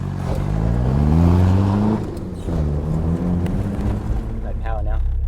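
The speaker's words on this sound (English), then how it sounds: "this is my 97 Mitsubishi Delica" A 1997 Mitsubishi Delica L400 camper van engine drones and revs steadily while driving, a loud low rumble with pitch rising and falling, and a voice speaks over it near the end.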